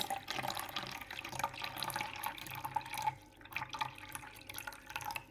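Water is poured into a container sitting on a kitchen scale, a steady close splashing and trickling that thins and becomes more broken toward the end.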